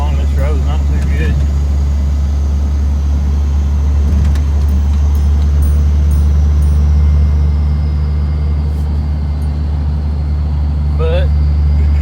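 An old tractor, a 94, loafs along a rough road, its engine giving a loud, steady low drone that runs continuously beneath a voice talking over it.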